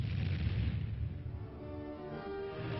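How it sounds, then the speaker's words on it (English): Armored tank guns firing in a US Army film: a heavy booming blast with a rolling, rumbling decay that fades over a couple of seconds. "Armor has the firepower to neutralize any target within range of its guns."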